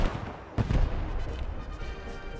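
A rifle grenade in the video game Post Scriptum launches and explodes as one sudden heavy boom, followed by a rumbling tail over steady battlefield ambience.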